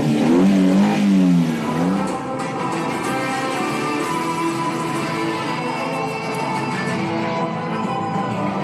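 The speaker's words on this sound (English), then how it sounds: "Gentlemen, start your engines." A car engine revving hard and holding a steady, loud drone for several seconds, with a rising and falling whine early on, heard close and alone.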